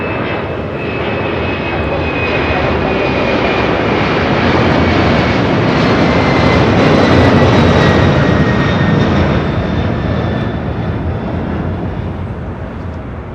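A LATAM cargo jet takes off at LAX, its engines giving a loud, steady roar that swells slightly and holds for over ten seconds, with a faint high whine on top and no voices.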